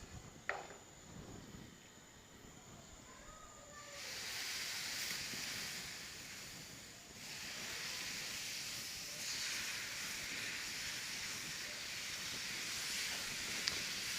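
Milk poured into hot roasted semolina, a soft clink followed by a sustained steamy hiss that swells and holds for many seconds, quiet and close.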